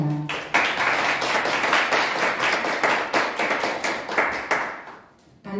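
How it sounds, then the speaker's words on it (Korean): A crowd at a Korean political party's policy vision presentation breaks into sustained applause, dense and continuous clapping that swells in waves before fading away near the end. "큰 박수 부탁드립니다."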